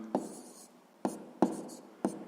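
Pen strokes on paper while a sixth-grade math fraction calculation is written out: four short, crisp scratching bursts at uneven intervals, close and quiet, with no voices.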